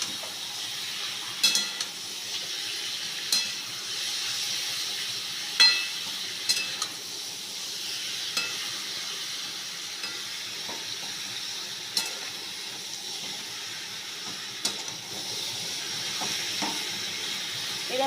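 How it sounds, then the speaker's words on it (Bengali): Chicken pieces sizzle and hiss steadily in a pan over a high gas flame, with a spatula clinking and scraping against the metal every few seconds as the meat is stirred. "এরকমভাবে হাই ফ্লেমে 5 মিনিট মতো ভেজে নেব।"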